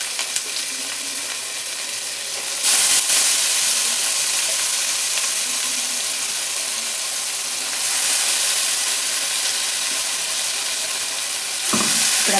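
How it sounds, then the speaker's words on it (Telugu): Mint paste frying in oil for pudina rice, a steady broad sizzle throughout with louder hissing surges when the paste is stirred or moved, close and continuous with no talking. "ఇప్పుడు పేస్ట్ అంతా పచ్చివాసన పోయేంత వరకు ఫ్రై చేసుకోవాలి"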